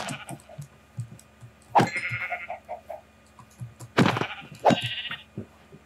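Several sheep in Minecraft bleat, a few drawn-out bleats rising over a steady run of small clicks and footstep-like taps, close and fairly loud with no talking.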